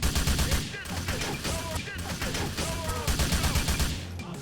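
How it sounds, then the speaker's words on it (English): Rapid drive-by gunfire in a modded GTA 4 video game, fast continuous bursts of shots with a steady low rumble and game score underneath, loud and sustained throughout. "The drive-by rate of fire for the player is now increased with this mod"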